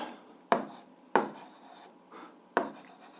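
A pen writes on paper while a physics problem is worked out, producing a few close, quiet scratching strokes with sharp starts separated by short pauses, alone without talk.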